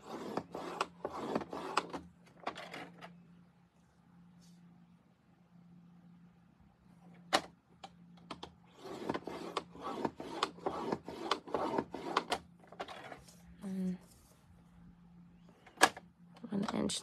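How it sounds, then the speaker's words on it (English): Card stock scored with a paper trimmer for a handmade tile-technique card: short rasping scrapes and a couple of sharp clicks, close by, mostly between and under a person talking. "So these two pieces I've scored at 1 inch on each side."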